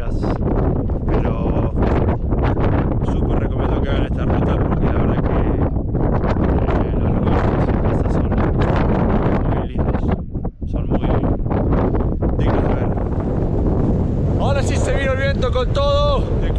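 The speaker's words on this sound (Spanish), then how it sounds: "de a rato el viento viene con todo y te cagas de frío" Strong wind buffeting the microphone on a high-altitude volcanic route around 4000 metres in the Andes, a loud continuous roaring rumble with surging gusts, close and overwhelming, with a faint voice near the end.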